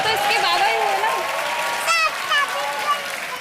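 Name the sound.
studio audience applauding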